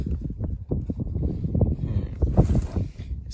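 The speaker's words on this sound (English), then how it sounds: "it's so windy all of a sudden" Strong gusting wind rumbles and thumps against the microphone throughout, loud and close, with a faint hiss rising near the end.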